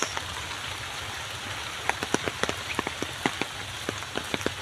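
Rain falls steadily across a university campus on an afternoon, a continuous soft hiss with scattered sharper drips and drops landing nearby, no voices present.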